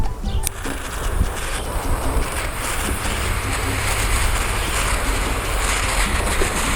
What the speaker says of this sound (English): Oh yeah, this wind's not going to be my friend.